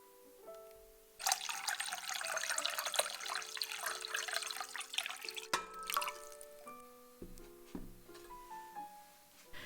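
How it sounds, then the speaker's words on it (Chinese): Mushrooms rinsed under a running kitchen tap, a steady splashing stream starting after a quiet second, with drips and trickles, then the flow cuts off, leaving scattered drips alone. "如果蘑菇很脏，可以适度清洗。"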